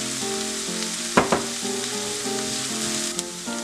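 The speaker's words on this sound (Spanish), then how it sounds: "Miren, ya la cebolla ya está sofrita." Chopped onion fries in a pan, a steady sizzle with a few utensil clicks and scrapes over a faint tonal background, no talking.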